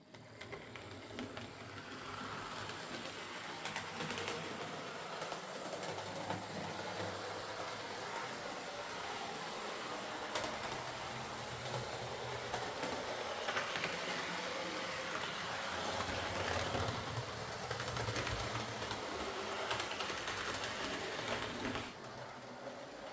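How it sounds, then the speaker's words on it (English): A model railway locomotive with a freshly serviced Ringfield motor runs continuously, a steady, faint whirring hum with light mechanical rattle that holds evenly for over twenty seconds. "A straightforward Ringfield service, a bit of a clean up inside and out, refit the driver, and the locomotive runs really nicely"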